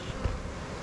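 Honeybee swarm settled in a new box, giving a brief, faint, steady buzzing hum with no voices.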